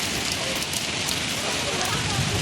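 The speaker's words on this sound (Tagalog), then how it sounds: "Oh my God, it's raining. So big rain." Heavy rain pours down in a park at Kai Tak Sports Park, Hong Kong. A dense, steady hiss of rain on surfaces fills the whole clip, close and loud.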